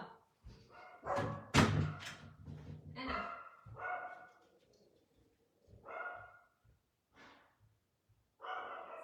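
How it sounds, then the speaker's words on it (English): Pet dogs indoors bark in loud, close, uneven bursts of sharp barks and yips, with pauses and some breathing between them. "I'm gonna have to put my dogs in their kennel because they're gonna keep barking."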